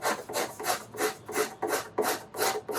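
A hand scraper is drawn along the binding and purfling of a steel-string acoustic guitar, giving eight evenly spaced dry rasping strokes, close and fairly quiet, with no talking.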